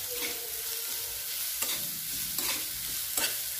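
Grated bottle gourd stirred and roasted in hot ghee for lauki barfi, a steady close sizzle broken by a few sharp scraping stirs of the spoon against the pan.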